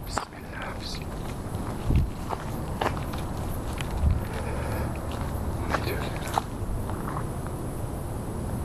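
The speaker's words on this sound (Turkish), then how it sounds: "Ay dibimden ayak sesleri geliyor" Footsteps crunch over the forest floor at an uneven pace, with a few heavier steps standing out against a steady rustling background and faint low voices.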